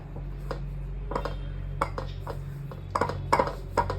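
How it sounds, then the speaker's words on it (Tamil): Gram flour dry-roasts in a pan, heard as intermittent scrapes, taps and clinks of a metal spoon against the pan over a low steady hum, with no sizzle. "இந்த கடலை மாவை கொஞ்சம் இந்த பச்சை வாசனை போக வறுத்துக்கலாம்"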